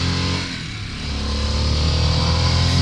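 A 2022 Harley-Davidson Sportster S motorcycle accelerates hard, its engine dipping briefly then rising into a loud, steady roar heard close up from the rider's position, with wind noise mixed in.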